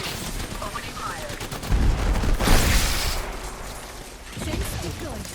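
Video game gunfire in a squad-based shooter, with rapid bursts of shots and a loud, sustained volley in the middle over a busy battle mix, followed by more scattered firing.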